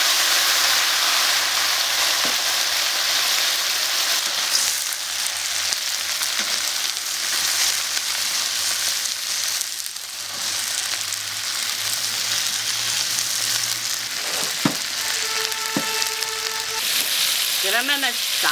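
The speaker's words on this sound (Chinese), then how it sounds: "洗好的龙虾下锅炸" Washed lobsters deep-fry in hot oil, a loud, steady bubbling sizzle that fills the scene for a long stretch, with a few clinks and brief voices near the end.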